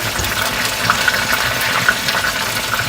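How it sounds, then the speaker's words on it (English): Steady, loud sizzling and crackling of plantains frying in hot oil in a pan, a continuous hiss with small pops scattered throughout. "When you hear it sizzling like that in the pan, it's good and ready."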